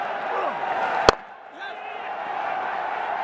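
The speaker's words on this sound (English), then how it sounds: "Grand to have all these spectators cheering on." Spectators cheering at a stadium cricket match in the Bangladesh Premier League, Chittagong Kings against Durbar Rajshahi, heard as a steady broad roar of distant crowd noise with one sharp bang partway through.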